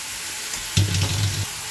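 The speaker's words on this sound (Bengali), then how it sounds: "এবার দিয়ে দেবো আমি কেটে রাখা এই সবজিগুলো" Chopped carrot, eggplant, potato, cabbage and lightly steamed cauliflower hit hot oil with frying spices in a pan, bursting into a loud sizzle that holds steady for under a second before cutting off, with no talk.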